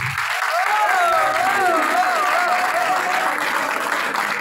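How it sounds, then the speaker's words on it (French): A full hall at a political movement's gathering applauds in a steady, dense roar of clapping, while a person talks over it in the first half. "On peut entendre toute la salle faire des applaudissements"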